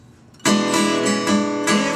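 Acoustic guitar plays a short phrase from a Delta blues song. It starts with a sharp strike after a brief quiet moment, then several ringing notes sustain, close and alone.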